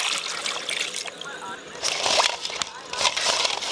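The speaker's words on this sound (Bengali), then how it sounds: "গরম ডিম তো জল দিয়ে দেবো" Water splashes and trickles over hot boiled eggs while people chat nearby at an outdoor winter picnic where biryani and kebabs are cooked, a steady close pour with splattering bursts under background talk.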